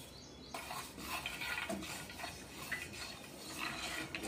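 Peanuts and sesame seeds roasting in a pan while being stirred, a quiet dry rustling and scraping with light clinks of the spoon against the metal, steady throughout.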